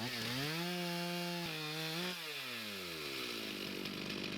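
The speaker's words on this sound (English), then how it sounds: "as I'm cutting the rest of the log, the first part doesn't pinch the saw." A chainsaw on a homemade welded chainsaw mill rips lengthwise through a log, its engine whining high under load, dipping and recovering as it bites into the wood, close and continuous.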